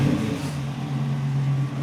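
A 1971 Chevy Nova restomod with an LT1 engine and six-speed manual gives a short rev that settles into a steady, moderately loud engine hum, with no talking.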